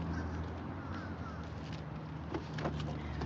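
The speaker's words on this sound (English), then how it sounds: "The birds are migrating." Migrating birds, crows among them, call overhead as a few harsh caws over a steady low background hum, moderately faint and somewhat distant, with no talk.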